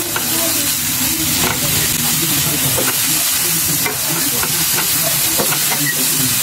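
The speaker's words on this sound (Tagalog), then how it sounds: "ilagay ang mga giniling. Haluin ng very light." Ground pork with tomato sizzles loudly in a pan while a utensil stirs it, with repeated scraping and clicking strokes over the constant hiss.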